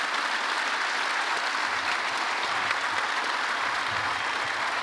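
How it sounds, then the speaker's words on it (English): Audience applause for the Greek Prime Minister and Netflix co-CEO at an on-stage conversation, a dense, steady wash of clapping from a large crowd, continuous and fairly loud throughout. "let's give a huge round of applause to the Prime Minister and Ted Sarandos."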